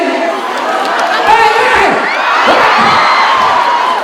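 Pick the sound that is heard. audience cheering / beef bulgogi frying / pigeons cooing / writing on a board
audience cheering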